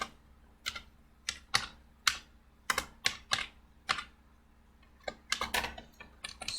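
Code is typed on a computer keyboard: a near, irregular run of crisp key clicks in quick bursts and short pauses over a faint background hum.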